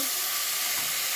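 Chopped carrots and chicken frying in a pan give a steady, close sizzle and hiss, brief and unbroken, with no talking.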